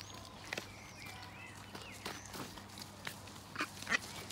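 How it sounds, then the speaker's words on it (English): A mallard duck gives a few faint, scattered quacks outdoors amid soft rustling and light footsteps, fairly distant and quiet. "We got our little mallard again."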